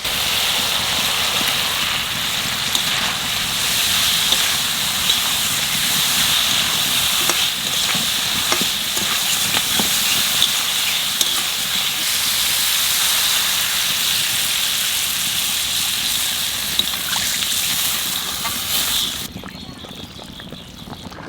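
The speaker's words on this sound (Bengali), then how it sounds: "বাজা আলু দিয়ে একটু নাড়াচাড়া দিয়েই জল ঢেলে দেবো" Fried potatoes are stirred in a hot pan of spiced masala for a rohu fish curry with ridge gourd. Water is then poured in, giving a loud, continuous hiss and sizzle with scraping stirs that softens near the end.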